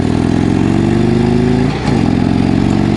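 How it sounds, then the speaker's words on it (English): A 2016 Harley-Davidson Road Glide Ultra engine revs hard and close on a gravelly road, a loud continuous drone with a brief dip in pitch as the throttle eases and then climbs again. "Boy, this engine just pulls."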